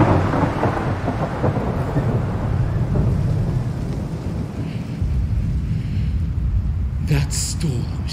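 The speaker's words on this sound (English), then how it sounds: "That storm shall do such mischief in the wood." A thunderstorm with deep, continuous rumbling thunder and steady rain, with a sharper crack near the end.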